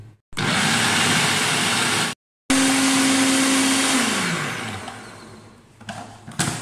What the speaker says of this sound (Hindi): दाल को मैं चॉपर में डालकर हल्का सा चॉप कर दूंगा।